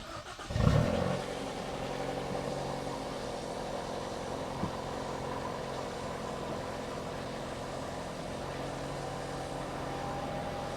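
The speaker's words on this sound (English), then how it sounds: "I think it's time now to start the car." A Hyundai i30 N with a newly fitted piggyback ECU fires up with a loud initial crank and catch, then settles into a steady, low, rumbling idle with a faint high whine, close by and without talking.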